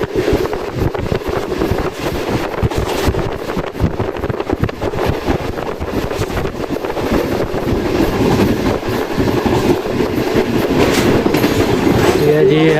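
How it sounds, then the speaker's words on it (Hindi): The Karachi Express passes through a railway station near Hyderabad, a loud continuous rumble of rolling wagons with rhythmic clickety-clack and wind buffeting the microphone, heard close up throughout. "ट्रेन अब कराची एक्सप्रेस 7:25 पे अप्रोच कर रहे हैं।"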